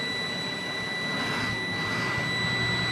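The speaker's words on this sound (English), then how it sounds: "I'm going to fast idle my engine from 1000 to 1500 RPM to build air pressure in my air tanks faster." A truck engine fast idling from about 1000 to 1500 RPM to build air brake pressure gives a steady, even drone that swells slightly toward the end, with no talking.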